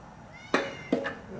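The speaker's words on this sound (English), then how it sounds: "That's right, cat." A cat meows twice, close and clear, the second call longer and wavering, in a semi truck cab during a battery installation, with a faint hum beneath.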